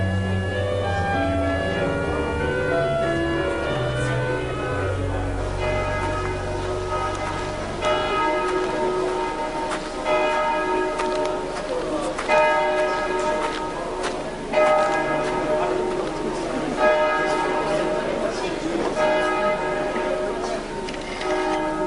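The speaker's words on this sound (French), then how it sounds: "Mais alors que les cloches sonnent," Church bells ring out in a repeating peal, several tones striking in rhythm and resonating, loud and clear.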